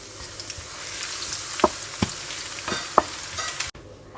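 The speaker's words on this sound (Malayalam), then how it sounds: "ഇനി ഇതിന്റെ ആ ഒരു റോ സ്മെല്ലൊക്കെ ഒന്ന് മാറി വരും വരയ്ക്കും നമുക്ക് ഇതിനൊന്ന് സോട്ട് ചെയ്തെടുക്കാം" Green chilies, ginger and garlic sizzle in hot oil in a pan for a lemon pickle, with a steady fry under a few sharp clicks of a spoon stirring, then a sudden stop.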